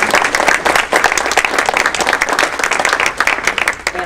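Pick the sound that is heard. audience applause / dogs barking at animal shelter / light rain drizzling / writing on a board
audience applause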